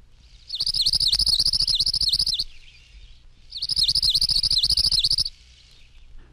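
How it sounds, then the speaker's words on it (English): Palm Warbler song: two rapid, even trills of high chipping notes, each lasting about two seconds, separated by a short gap, fairly loud and clear with no talking. "Palm Warbler"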